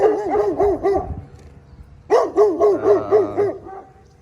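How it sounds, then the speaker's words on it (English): A neighbor's dog barks in a backyard, one quick burst of several rapid yappy barks, a short pause, then a second burst of about six barks, moderately close and alone. "the neighbor dog's trying to say hi"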